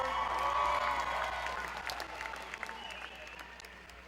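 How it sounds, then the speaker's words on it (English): An audience at a family entertainment night applauds warmly, with dense clapping that peaks early and then slowly fades over a few seconds, heard fairly distantly in a hall. "please put your hands together and give him a warm round of applause that he'll never forget"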